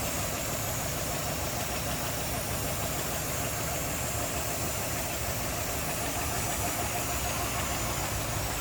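A 1959 DeSoto Firesweep engine idles steadily and smoothly, an even low rumble with a constant mechanical hum, no voices.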